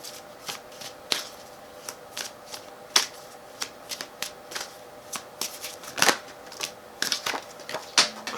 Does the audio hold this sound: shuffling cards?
yes